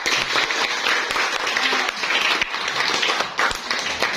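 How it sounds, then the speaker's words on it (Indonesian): A class of seventh-grade students applauds, a dense, steady wash of many hands clapping at close range that fills the whole stretch without pause, with only faint voices beneath. "mari kita beri tepuk tangan untuk semua kelas 7B yang hari ini telah belajar dengan sangat baik"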